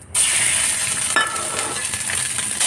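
Minced pork marinated in light soy sauce, sesame oil and cornstarch hits a hot wok and sizzles loudly and steadily right away, with a brief stirring scrape partway through.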